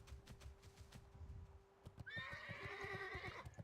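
A horse in World of Warcraft: The Burning Crusade Classic gives a loud, shrill whinny that cuts in over steady clip-clop hoofbeats and game background, the neigh running for over a second near the end.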